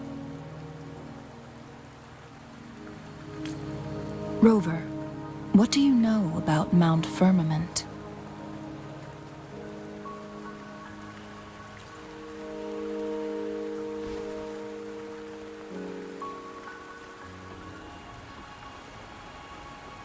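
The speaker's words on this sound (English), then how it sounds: "Don't worry, the rain won't last much longer." Steady rain falls in the video game Wuthering Waves, a soft continuous patter beneath a character's speech and layered game music.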